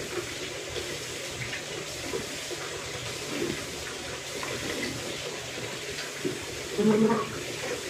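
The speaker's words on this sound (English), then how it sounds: "So then I spit out whatever I have in my mouth." Water runs from a bathroom sink tap as someone spits and rinses their mouth after brushing teeth, a steady close splashing flow with a brief louder gush near the end.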